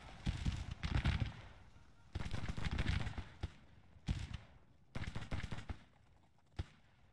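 Gunfire in a Grand Tactician: The Civil War battle at Wilson's Creek, with several bursts of rattling, crackling musket volleys separated by short pauses, distant and moderately loud.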